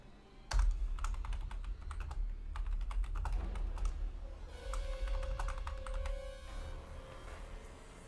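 Someone types on a computer keyboard in quick irregular bursts of sharp clicks and key taps, close and clear over a low steady background hum, with no talking.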